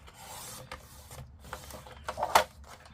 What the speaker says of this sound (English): So let's try the trimmer.